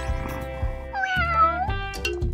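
A cat gives a drawn-out, wavering meow in the middle, with soft rhythmic rustling or scratching sounds close by before and after.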